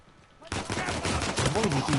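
Pistol gunfire in Uncharted 4 survival mode, a quiet moment broken by a sudden loud burst of rapid shots and impacts that continues densely to the end, with game effects layered on top.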